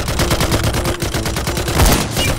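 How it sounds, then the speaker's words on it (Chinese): Machine gun strafing fire in a forest battle scene, a loud, rapid, continuous string of gunshots with dense overlapping bursts and no talk. "向外扫射，阻止敌人偷袭。"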